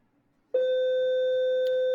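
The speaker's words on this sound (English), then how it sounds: "So that's the bell for the after school." An electronic school bell sounds for the end of the school day as one steady, pure tone that starts abruptly and holds unbroken at constant loudness, heard alone without talk.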